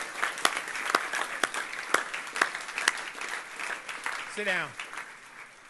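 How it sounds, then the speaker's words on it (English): Scattered, uneven clapping rises from a small audience at a lineman training graduation, individual claps standing out rather than merging, with someone speaking briefly over it. "We need to give them a special round of applause because they made it 11 weeks"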